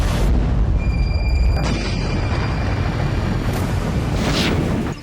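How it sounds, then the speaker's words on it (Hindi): A heavy drone-strike explosion at the Ryazan oil refinery booms into a loud, sustained rumbling roar that keeps rolling for several seconds before easing off slightly at the end. "रेजान ऑयल रिफाइनरी में फिर ड्रोन से धमाका हुआ है"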